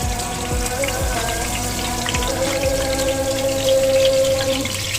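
Lamb meat fries in ghee in a kadhai over fried onions, making a steady, close sizzle with scattered crackles and pops that continue without a break.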